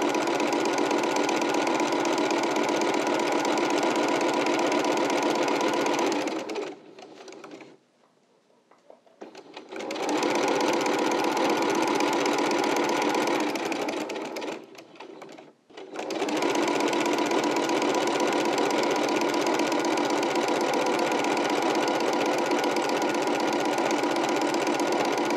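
Sewing machine stitching fabric in steady continuous runs, slowing and pausing briefly twice as the fabric is pivoted at corners, then resuming at full speed; close and loud, with no talk.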